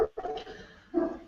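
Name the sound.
dog barking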